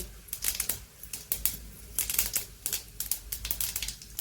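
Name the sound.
mustard seeds and cumin spluttering in hot oil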